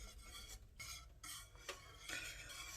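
Rice pudding gently stirred in a pot, a soft, quiet scraping of a spoon against the bottom in slow repeated strokes with faint bubbling beneath.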